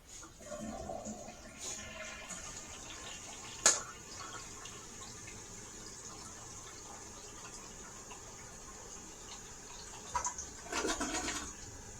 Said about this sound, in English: now that we've got the quick clean off, we're ready to flush it.